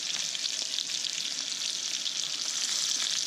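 A Delmonico steak searing in a hot pan with garlic and butter gives off a loud, dense, continuous hiss and sizzle that holds evenly throughout, with nothing else heard.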